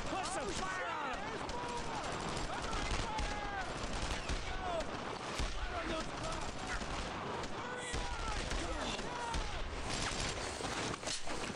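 Dense, continuous gunfire and rapid bursts fill a battle in Brothers in Arms: Road to Hill 30, a World War II shooter. Loud shots overlap with soldiers shouting throughout.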